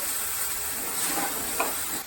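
Water boils off in a cooking pan on medium heat while making chundal, a steady soft hiss and sizzle with a brief louder pop near the end, close and alone.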